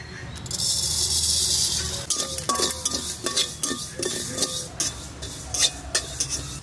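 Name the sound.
dry-roasting fennel, cumin and chillies in a wok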